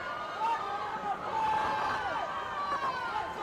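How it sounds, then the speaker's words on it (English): A grandstand crowd cheers at the finish of an eights race at the Royal Canadian Henley Regatta, a steady distant roar of voices running under a commentator who talks over it throughout. "You can hear all this cheering in the grandstand for these boats"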